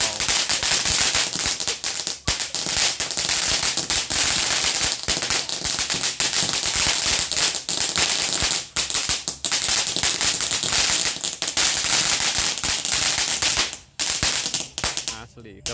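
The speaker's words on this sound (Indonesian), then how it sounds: "Ini kita nyalakan mercon kembang api air mancur kerucut" A jumbo conic fountain firework sprays sparks continuously for about fifteen seconds, a dense loud crackling hiss peppered with sharp pops, before cutting out briefly near the end.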